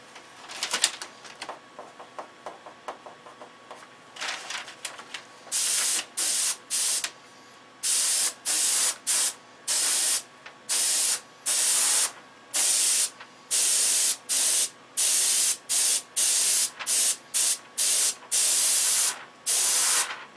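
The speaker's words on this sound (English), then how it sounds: "I'm going to push it down, spray it, and get off of it." Repeated short bursts of a spray gun hissing paint onto the trim of a control-line P-51 model plane, each lasting about a second, with brief pauses between them in a steady, regular rhythm.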